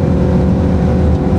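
Lexus RC-F V8 engine running with its exhaust flap closed, a loud, steady, muffled low drone that stays even and continuous.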